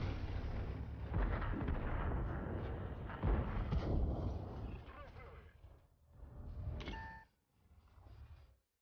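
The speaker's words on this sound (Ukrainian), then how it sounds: "Я не туди стріляю." An IS-3-II tank cannon firing in World of Tanks, with heavy booming blasts and rumbling battle noise that rise and fall, while someone speaks over the action.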